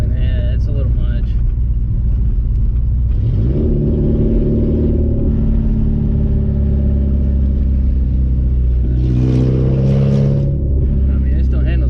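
Porsche 944 fitted with a straight pipe exhaust, its engine idling with a loud, deep rumble that swells twice into brief revs before settling back to a throaty idle.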